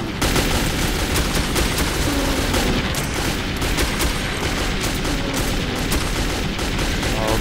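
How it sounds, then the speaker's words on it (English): Revolver shots ring out in the Metro 2033 shooter amid a dense, continuous barrage of loud, overlapping gunfire and blasts. "one last revolver shot"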